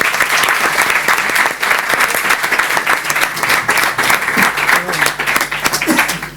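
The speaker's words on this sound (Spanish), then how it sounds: "debemos agradecérselo con un buen" Audience at a criminology conference on immigration gives a loud, sustained round of applause, dense clapping from many hands filling the room, with faint murmurs and a little laughter beneath it.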